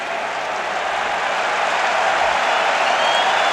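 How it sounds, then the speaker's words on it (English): A stadium crowd at a 2005 Michigan at Northern Illinois college football game gives a steady ovation, a broad wash of roaring noise sustained for a few seconds with no talk over it. "Hear the ovation from the crowd."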